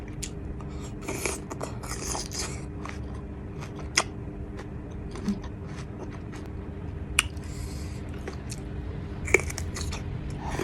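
Crunchy Thai pickled jujube fruit is bitten and chewed up close, with crisp crunches and sharp snaps over a steady wet chewing sound and no talking.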